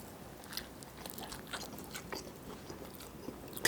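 Close, crisp bites and chewing on a burrito whose beans are still crunchy and seem undercooked, with irregular crunches and moist mouth sounds repeating over several seconds, ending on a sharper crunch.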